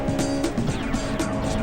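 Close, loud high-revving engine of a 1995 Honda Integra Type R DC2 with a front-wheel-drive race-tuned engine modified to 200 horsepower, a sustained screaming pitch under driving noise.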